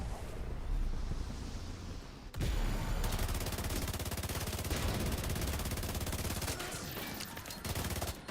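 Automatic turret gunfire in The Division 2, loud and continuous rapid bursts with a brief break, then a dense sustained volley filling nearly the whole stretch.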